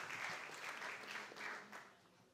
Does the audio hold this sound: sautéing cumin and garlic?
no